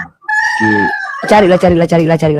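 A rooster crows loudly and close by in a long, harmonic cock-a-doodle-doo, followed by a few clucks, while a person speaks briefly near the start.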